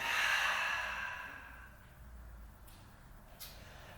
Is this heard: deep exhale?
yes